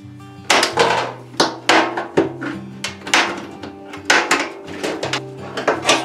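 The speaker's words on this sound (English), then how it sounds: "This would go a lot better if I had my other tin snips." Old, worn tin snips cut through the thin metal of a gas can, giving a run of sharp crunching snips and clanks at an uneven rhythm, close and fairly loud, with no talk.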